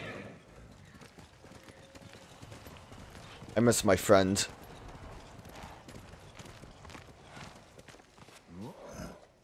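Horse hoofbeats clatter briefly in a quick burst amid Ghost of Tsushima game sound effects, with a voice speaking quietly underneath.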